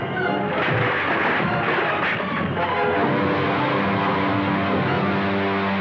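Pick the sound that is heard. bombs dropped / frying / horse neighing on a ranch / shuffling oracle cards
bombs dropped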